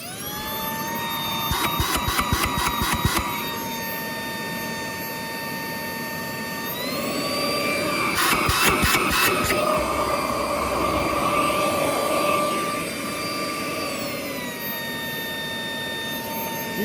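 Shark IonFlex cordless vacuum power nozzle running, a steady whining motor hum with high tonal whine that rises in pitch midway, plus brief rattling bursts early and again later.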